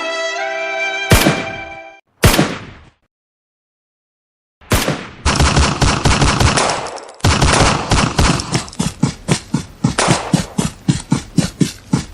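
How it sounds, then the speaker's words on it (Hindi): Loud, close gunfire: a couple of sharp single shots, then a sustained rapid burst of automatic fire rattling on for several seconds. "यहाँ पटाखे नहीं गोलियां चल रही है"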